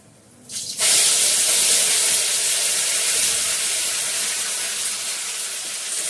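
Curry leaves rinsed under running tap water: a steady, bright hissing stream starts abruptly after a brief quiet moment and continues loud and constant to the end, with no talking.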